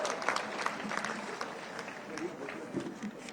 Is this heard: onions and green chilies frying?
no